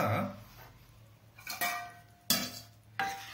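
A spoon scrapes and clinks against a pan of baby corn masala a few times, with soft stirring sounds between the sharper knocks.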